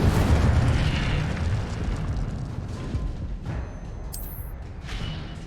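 The Incendio fire spell is cast in a Harry Potter video game played on hard difficulty, and it lets out a heavy, roaring burst of flame. The rumble fades into crackling game effects, with a short bright chime near the end.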